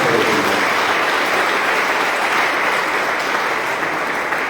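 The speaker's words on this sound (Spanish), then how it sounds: "¿Cuánto damos un aplauso al Señor?" A church congregation applauds the Lord during a sermon, a dense, loud, even wash of clapping that continues steadily for several seconds with no talk.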